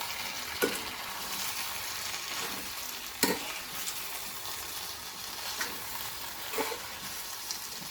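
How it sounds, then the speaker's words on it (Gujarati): Okra and potato curry with coriander powder cooks in a pan: a low, steady sizzle is broken by a few scraping strokes of the stirring spoon at spaced intervals, faint and close, with no voices. "એકવાર શાકને ચલાવી લઈશું"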